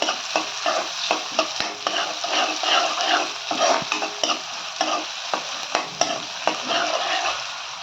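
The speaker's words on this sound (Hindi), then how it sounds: "अच्छी तरह से सौते कर लेंगे" Onions sauté in a hot pan with loud sizzling for mushroom fried rice, punctuated by repeated scraping stirs of a spatula at an uneven rhythm.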